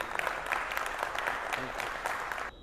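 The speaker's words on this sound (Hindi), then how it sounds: "इसके लिए दोबारा तालियां होनी चाहिए।" Audience applause at a lovebird show in Pakistan, a steady dense patter of many hands clapping together for about two and a half seconds before cutting off abruptly.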